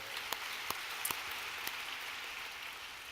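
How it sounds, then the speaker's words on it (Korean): Congregation clapping in a church during an evening prayer service, a dense, steady patter of many hands with a few sharper claps standing out, heard from some distance. "우리 박수로 우리 그들을 환영하도록 하겠습니다"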